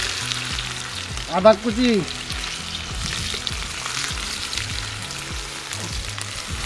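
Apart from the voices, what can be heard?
frying onion and ginger for duck meat curry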